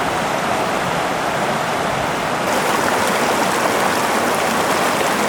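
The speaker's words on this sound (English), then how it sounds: "We've crossed the first of several of these stream crossings of the creek that comes out of it." A mountain creek rushes past at a backcountry trail crossing, a steady, loud, close wash of flowing water with no other sound.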